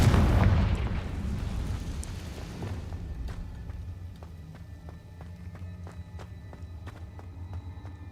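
A Confringo fire spell from the Hogwarts Legacy video game erupts in a loud burst of blasting noise, then settles into a lower rumbling game soundscape with scattered small impacts.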